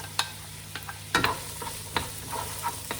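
Onion, garlic and ginger stir-fry in a pan for fried rice, giving a low sizzle broken by several sharp clacks and scrapes of stirring, close up with no voices.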